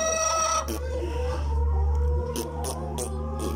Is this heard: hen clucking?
yes